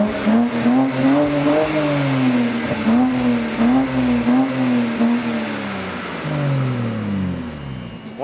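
Stock BMW 335i engine and exhaust in factory configuration rev repeatedly, loud and close, with a rhythmic series of throttle blips rising and falling before a longer settling drone.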